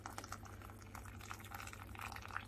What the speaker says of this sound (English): use hot boiling water and add more water to the pan